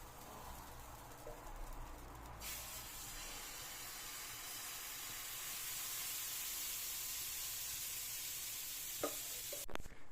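Wheat pancake batter made with kefir sizzling in a hot pan, a continuous soft hiss that swells slightly, with a few faint clinks near the end.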